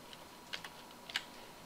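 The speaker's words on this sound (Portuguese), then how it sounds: "Vou novamente digitar a palavra ramal." A few faint, sparse keystrokes on a computer keyboard while a word is typed into an Excel 2010 spreadsheet, two or three light taps spaced out against quiet room hiss.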